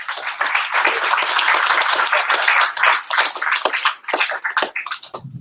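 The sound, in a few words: audience applause after a presentation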